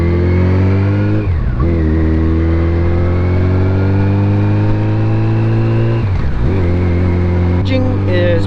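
A 2007 Yamaha FJR1300 touring motorcycle pulls away, its engine loud and close, revving up through the gears with two clear dips at the shifts and a steady drone in between.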